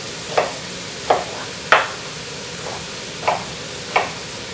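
Cut onions going into a pan and being stirred, with a soft, steady sizzle underneath and about six distinct scraping stir strokes spaced unevenly, close and fairly loud, no talking.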